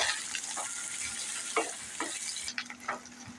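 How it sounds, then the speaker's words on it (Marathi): Onions sautéing in a pan for a masoor dal and onion dish, a steady sizzle with a few scraping stirs of a spatula, close and moderately loud, no talk. "कांदा चांगला परतून घेऊया"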